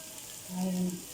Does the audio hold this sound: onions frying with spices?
yes